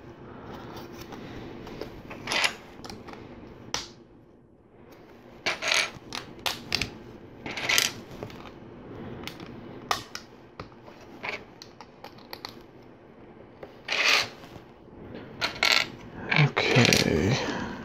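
LEGO plates handled and pressed together on a tabletop, with scattered sharp plastic clicks and rattles, some in quick clusters and others isolated, close and crisp, ending in a longer shuffling of pieces.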